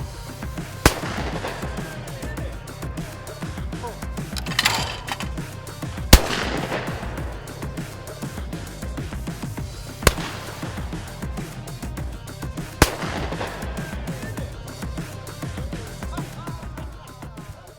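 Shotgun fired at clay targets during a 4-H youth shooting program, several sharp single reports spaced seconds apart, heard at a distance over outdoor background noise with some talking.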